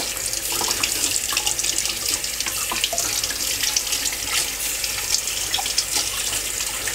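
Cold water runs steadily from a tap over a knife, splashing continuously into a sink with a bright, hissing rush.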